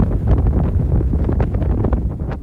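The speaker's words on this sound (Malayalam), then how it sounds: "അന്യായ കാറ്റാണ്, അന്യായ കാറ്റ്" Strong wind on the hilltop at Ilaveezhapoonchira buffets the microphone in a loud, continuous low roar with uneven gusts throughout, and no talk.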